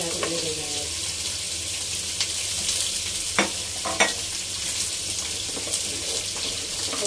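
Garlic, onion and tomato being sautéed for Filipino beef mechado, giving a steady frying hiss with a few brief stirring clinks at the pan, close and continuous with no talk.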